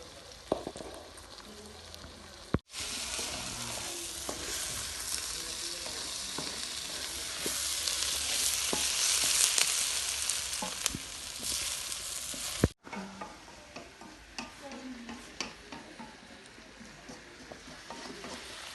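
Tomatoes for shahi paneer are stirred in a hot pan, giving a steady loud sizzle with scraping from the stirring, close up, briefly cut at two points.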